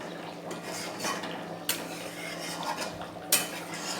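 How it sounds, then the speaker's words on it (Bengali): Goat meat curry being stirred in a pot, a spoon scraping steadily against the metal with two sharp clinks standing out, close and moderately loud with no talking. "মাংসটাকে ভালো করে একটু নেড়ে নেই"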